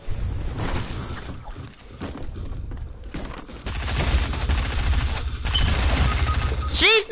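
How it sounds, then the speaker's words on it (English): SMG fire in a battle royale video game rattles in repeated rapid bursts, some distant and some closer, with a voice talking over parts of it and a brief rising tonal effect at the end. "everyone's spamming SMGs"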